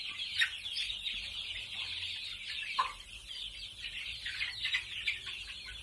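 About two hundred one-month-old domestic chickens fill a coop with constant soft, high peeping and clucking, with occasional louder chirps over a quiet background.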